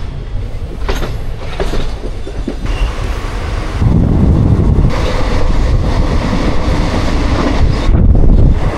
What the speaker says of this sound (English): look at this train, it just goes on and on and on